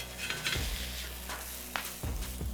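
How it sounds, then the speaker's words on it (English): A Hamburg steak burger patty cooks in bubbling gravy on high heat, producing a close, steady sizzle and bubbling over a low hum, with a couple of soft pan knocks. "cooking my burger absolutely in the gravy"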